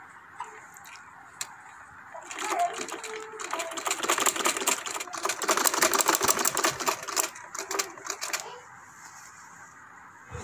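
Domestic sewing machine stitching a pocket onto the reversed side of a child's kameez, running in bursts of rapid mechanical clatter that grow louder in the middle, with short pauses between runs.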